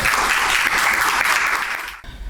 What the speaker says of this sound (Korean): 큰 박수로 원장님 모시도록 하겠습니다